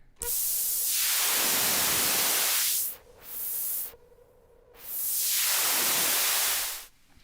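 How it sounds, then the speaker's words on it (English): Bright, hissing synthesizer white noise through a high-pass filter on the Lagrange iPad synth, sweeping in and out, rising and thinning in repeated filtered swells, with short quiet gaps between. "Then we have white noise with a high pass filter."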